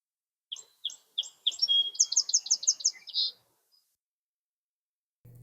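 A single bird sings a bright, rapid phrase of accelerating chirps and trills in the dawn chorus before sunrise, close and clear against a still, quiet background, then falls silent.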